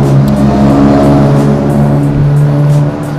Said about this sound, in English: Mustang and Honda race.